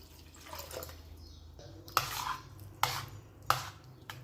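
Homemade butter being rinsed in clean water in a kitchen bowl gives soft sloshing and trickling, broken by three sharp clinks of a utensil against the vessel.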